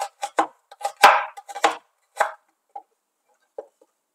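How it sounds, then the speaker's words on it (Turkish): A knife chopping a dry onion very finely on a board, crisp separate taps in quick uneven bursts, then slowing to a few sparse cuts; no talking. "1 adet kuru soğanımı çok minnacık, küçücük doğruyorum."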